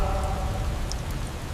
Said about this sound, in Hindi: बाहर इतनी तेज बारिश है